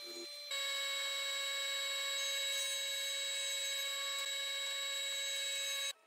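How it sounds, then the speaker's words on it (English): A saw rips a red oak board to size for a desk. It gives a steady, loud high-pitched whine that starts suddenly, holds evenly for about five seconds, then stops, with no voices. "and then I'll rip it down to the size I need."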